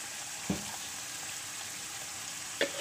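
Keema fries in a pan, a soft, continuous sizzle at low level with a few brief stirring clatters near the start and end.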